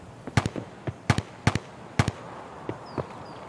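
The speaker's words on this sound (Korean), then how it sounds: "왜 총소리가 뒤에서 나냐?" Distant gunfire in Escape from Tarkov near a factory area, a few sharp reports in uneven pairs and singles with gaps between, fairly faint over a low hum.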